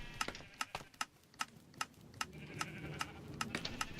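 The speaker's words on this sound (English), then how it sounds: "Alright, here's the sheep." A run of short, sharp clicky bleats from a Minecraft sheep repeating at a quick, uneven pace, fairly quiet with no talking.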